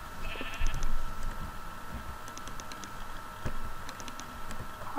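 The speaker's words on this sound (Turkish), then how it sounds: "bak bir koyun" Sheep in the video game Minecraft bleat in a few short, faint calls spaced across the moment, with light clicking in the background.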